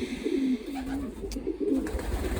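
Racing pigeon, a Jan Aarden type, cooing in low warbling phrases that rise and fall continuously, close by over a murmur of ambient loft noise.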